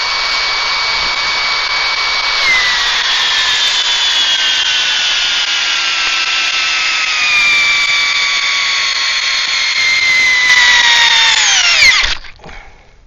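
Metabo HPT DV36DC 36V cordless drill running steadily at high speed, a loud sustained whine with a slight pitch drop partway through, then winding down and stopping abruptly near the end.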